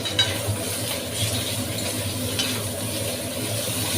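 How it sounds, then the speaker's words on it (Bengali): Soybean chunks frying in a pan of hot oil while being stirred, giving a steady, close sizzle with faint clinks of the spatula against the pan and no voices. "দুবার করে আমি ভেজে দিয়ে একটু নাড়াচাড়া দিয়ে"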